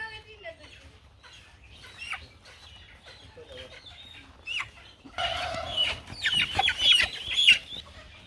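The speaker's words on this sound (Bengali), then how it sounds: "পাঁচটা মুরগি নিয়ে যাচ্ছে ফাহিম" Sonali chickens cluck and squawk close by while being carried away from a farm, sparse calls at first swelling into louder agitated clucking near the end, with people talking faintly alongside.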